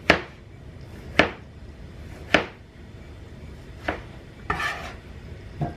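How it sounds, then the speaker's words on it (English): A knife roughly chopping food on a board at a home stove, five or six sharp, separate knocks at uneven intervals over low background hiss. "I'm going with a chop, like a rough chop"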